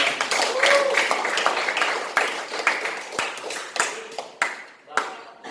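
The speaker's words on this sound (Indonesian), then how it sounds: "Tepuk tangan dong." Students in an Indonesian high school Qur'an and Hadith class clap together, a ragged burst of hand claps and taps that thins out over several seconds, with some voices mixed in.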